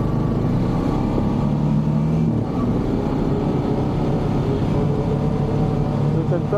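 A Honda Pioneer 500 utility vehicle accelerates up to cruising speed, its steady mid-pitched engine drone holding close and continuous throughout without any break.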